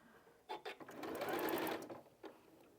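A sewing machine stitches slowly through a bulky quilt seam: a few separate needle strokes, then a short steady run, and one last stroke, near and moderately quiet.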